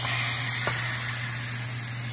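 Loud, continuous sizzling hiss of a tomahawk ribeye steak searing on a hot grill, broad and steady, with a faint hum beneath and no talking.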